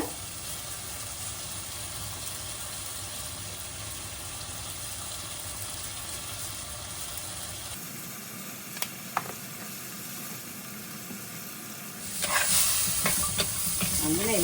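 Ingredients sauté in a pan on a home stove while being stirred, a soft continuous frying hiss that shifts in tone midway, with a few light scrapes and a louder burst of sizzling near the end.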